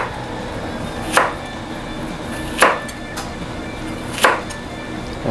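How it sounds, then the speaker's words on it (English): A knife chops through a vegetable on a cutting board, cutting it into small triangles: three separate, sharp strikes spaced more than a second apart, over a faint kitchen background. "we're gonna try to cut it in little triangles shape"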